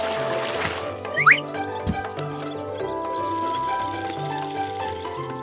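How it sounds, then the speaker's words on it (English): Cartoon-style liquid sounds as water pours from a tractor bucket into a pool: a quick bubbly pour and splashy gurgles over a bed of background music, with no talking. "The woodpecker is pouring water from the tractor bucket."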